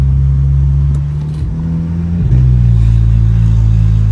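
A Volkswagen Jetta TSI 2.0 fitted with an exhaust diffuser accelerates hard, its loud, deep engine drone dipping briefly at a quick gear change before climbing again, heard close from inside the car.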